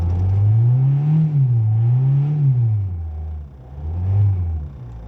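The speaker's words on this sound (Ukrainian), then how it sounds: "ну пробуємо газувати" A 2.0-litre Opel Zafira with a check-engine light and loss of power, its engine revved repeatedly in a garage setting: three rising and falling rumbling swells close by, with no talking.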